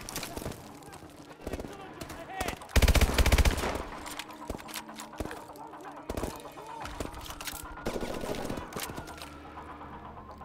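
An SMG in Call of Duty Advanced Warfare fires in short, sharp bursts, with a loud cluster of shots in the middle and scattered cracks elsewhere amid game effects, while someone talks throughout.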